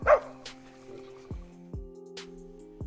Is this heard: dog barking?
yes